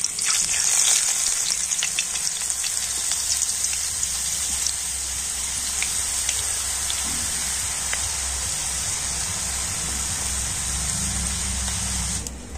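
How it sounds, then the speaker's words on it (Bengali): Green boondi batter for motichoor laddu fries in hot oil with a loud, steady, rain-like hiss and crackle that continues unbroken throughout, close and with no talking. "আর এবার আমি সবুজ কালারের ব্যাটারটা দিয়ে দিচ্ছি।"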